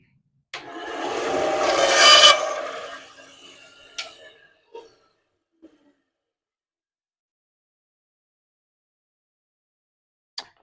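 A piece of wood is trimmed by hand right after bandsaw cutting, giving a close, steady rasping scrape for about three seconds that fades out, followed by a few light knocks and taps.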